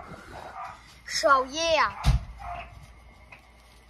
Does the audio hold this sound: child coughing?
no